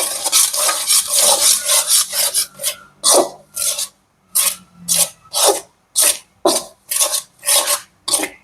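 A spatula scrapes and drags through hot pidi rice dough in a pan in a steady rhythm of rasping strokes, loud and close, about a dozen sweeps with short gaps of silence between them.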